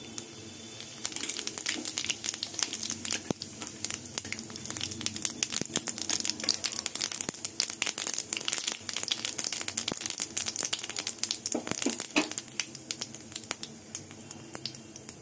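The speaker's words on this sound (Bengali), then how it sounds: "এবার এই তেলের মধ্যে জিরে, এই তেজপাতা, একটা শুকনো লঙ্কা" Whole cumin seeds, a bay leaf and a dried red chili crackling in hot oil, a dense stream of small pops and sizzles, close and fairly quiet, with no talk.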